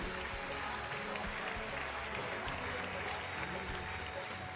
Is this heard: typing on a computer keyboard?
no